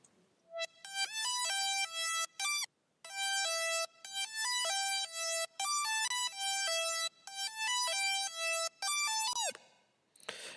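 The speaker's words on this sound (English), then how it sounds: "this Serum that is just playing a weird lead in the background." A detuned Serum wavetable lead with five-voice unison and distortion plays a quirky, bright, harmonically rich melody in choppy repeated phrases, loud and up front with short gaps and a final pitch-bending drop.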